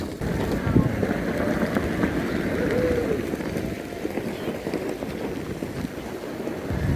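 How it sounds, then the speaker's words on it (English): Steady wind roaring and buffeting across the microphone throughout at Burning Man, a continuous broadband rush with some background voices underneath. "it's really windy"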